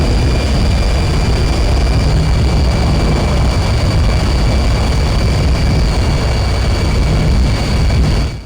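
An MB-339 jet trainer in the DCS flight simulator glides down onto a runway, its engine a steady, loud, unbroken roar that holds evenly before easing off in the final moment.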